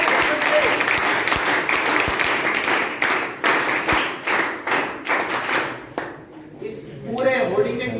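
Loud audience applause fills the space as dense, sustained clapping with some louder individual claps, tapering off near the end as a voice begins speaking over it.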